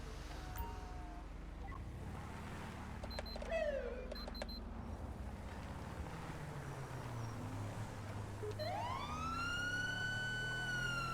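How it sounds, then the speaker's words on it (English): A police siren from a downloaded siren pack in GTA V, on a sheriff patrol, with short chirps and horn blips early, then a rising wail that builds and holds over an engine rumble. "I just downloaded a new siren pack."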